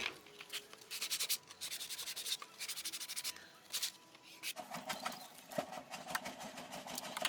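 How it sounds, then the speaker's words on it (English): Steady rhythmic rasping of sandpaper rubbed by hand back and forth over a wooden bird table roof, in fast repeated strokes with brief pauses, close and fairly loud. "I'm just going to give that a sanding down"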